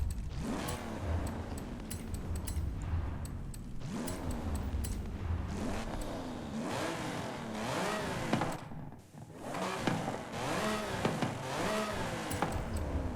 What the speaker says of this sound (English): Turbo is so much louder.